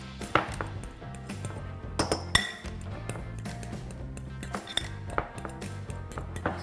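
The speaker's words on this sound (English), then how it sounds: "I'm just gonna take my fork and mash the egg yolks" A fork mashing boiled egg yolks in a bowl, scattered light clinks and scrapes of metal against the dish at an irregular pace, close and fairly quiet, with no talk.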